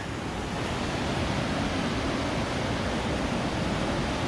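Steady, even hiss of rain falling outdoors on the Appalachian Trail by a river, continuous and unbroken, with no voices.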